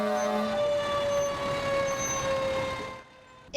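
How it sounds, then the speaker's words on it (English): Fire engines sound their sirens during a community parade, a loud steady wailing tone with truck rumble beneath, sustained for about three seconds before dropping away to quieter background. "I really liked the fire trucks. They were loud and cool"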